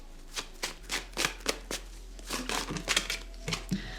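Tarot cards are shuffled and drawn close up, a run of crisp papery riffles and flicks in quick irregular bursts, fairly soft and with no talk.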